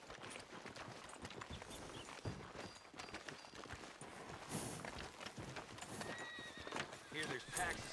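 Horse hooves clip-clop steadily while the animal neighs and whinnies in Red Dead Redemption 2 gameplay, mixed with game ambience and people talking over it.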